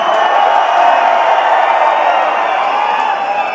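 A large concert crowd at a heavy metal show in Ljubljana roars and cheers in a dense, loud, sustained wash of voices.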